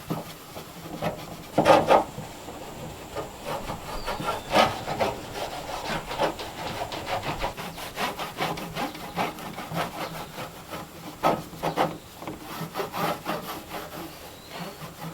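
A rust-preventing coating is rubbed by hand onto an old metal woodworking tool, making a steady, close scrubbing and wiping sound with a few louder strokes, with no talking.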